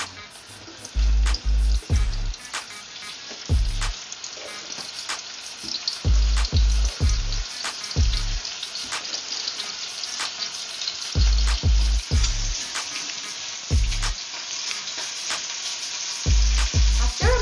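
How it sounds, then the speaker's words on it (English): Pork browning in hot oil sizzles steadily up close, a continuous crackling hiss under repeated clunks and stirring knocks as the pieces are moved in the pan. "Once the oil is hot, add the pork."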